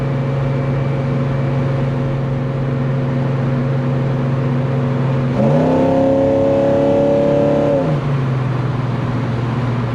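A 1970 Chevelle V8 fitted with a Holley Double Pumper carburetor idles with a steady deep rumble, then revs up sharply, holds a higher droning pitch for a couple of seconds and settles back to idle, loud and close.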